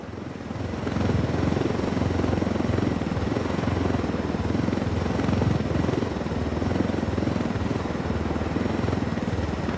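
Helicopter flying in the video game Ghost Recon Wildlands: a loud, steady rotor drone with a rapid, even chop and engine whine that rises in the first second and then holds close and constant, with no talking.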